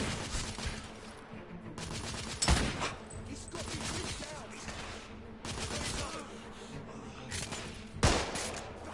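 Gunfire in The Order: 1886 game, a sustained volley of shots with sharp louder bursts standing out, mixed with some talk.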